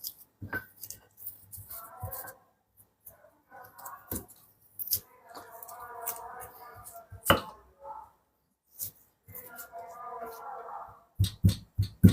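Chili sauce with petai is ground by hand in a stone mortar and pestle, giving intermittent bursts of gritty scraping and pounding strokes, close and fairly quiet, with brief talk between them.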